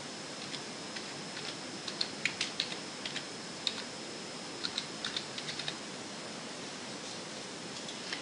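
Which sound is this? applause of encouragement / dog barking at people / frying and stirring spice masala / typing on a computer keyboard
typing on a computer keyboard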